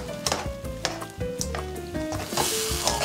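Pasta with sea urchin (uni) sizzling in a pan, a steady close frying hiss with scattered clicks and scraping stir sounds, plus a faint sustained tone running underneath.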